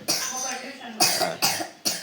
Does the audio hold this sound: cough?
yes